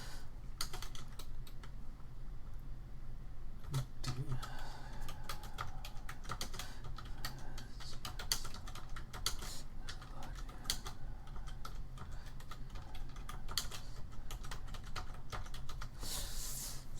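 Code comment being typed on a computer keyboard while programming in C# in Visual Studio: steady, fairly quick keystrokes with short pauses, close and clear, no talking.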